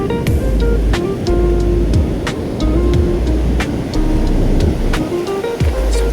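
Ocean waves wash onto a beach where someone is fishing, making a continuous loud rushing surf with periodic surges and some sharp clicks and knocks nearby.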